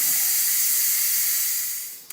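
A pressure cooker making split pea soup vents steam through its exhaust valve in a loud, even hiss that tapers off near the end, followed by a small click.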